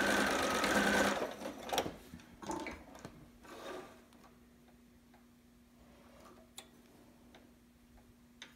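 A sewing machine stitches a single layer of fabric in a loud, fast whir that stops after a second, leaving scattered ticks and clicks over a steady low hum.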